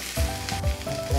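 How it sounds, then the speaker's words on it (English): Red eel fries on a teppanyaki iron plate at a restaurant, a close steady sizzle with repeated soft pressing thumps in a slow rhythm. "用这个铁板烧了，然后把我们的红鳗鱼在铁板上面把它煎熟"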